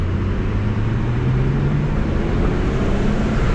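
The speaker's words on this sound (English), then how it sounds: "Full throttle pull in Mexico" A BMW E36 engine pulls at full throttle on a road in Mexico, producing a loud, steady drone with a rising tone as it revs, heard from inside the car without talk.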